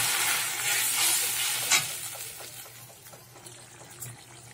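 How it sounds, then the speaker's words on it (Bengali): Black cumin (nigella seeds) tempering in hot oil left over from frying okra gives a bright sizzling hiss that surges early, then thins and settles into a softer crackle, with a faint clink near the end. "ঢ্যাঁড়সটা ভেজে তুলে নিয়েছি, ওর মধ্যে একটু কালো জিরে ফোড়ন দিয়ে দিচ্ছি।"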